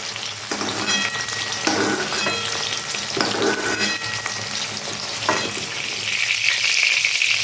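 Cabbage fries in hot oil in a pan for a fish curry, a loud continuous sizzle with occasional stirring scrapes and rattles, with no voices.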